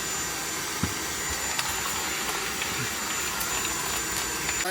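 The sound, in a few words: Inteture cordless vacuum cleaner sucking up nuts and bolts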